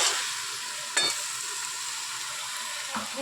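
Spice paste with salt sizzling steadily in a pan while being stirred, a continuous close frying hiss with a couple of sharper scraping bursts from the spoon.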